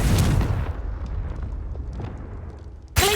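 In the video game Hogwarts Legacy, a Confringo spell goes off: a deep rumbling blast that fades over a couple of seconds, followed by a sharp new burst at the very end.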